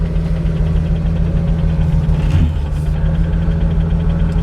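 A 1974 Jaguar XKE Roadster sits idling at about 800 RPM, its steady mid-pitched engine drone loud and close, holding even throughout with no voices.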